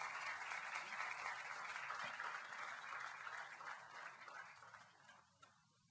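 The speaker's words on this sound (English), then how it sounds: "So one more round of applause for Shri Oswalji." Audience applause after a talk on tax havens and black money, a dense steady patter of clapping that holds strong for about five seconds before thinning and fading near the end.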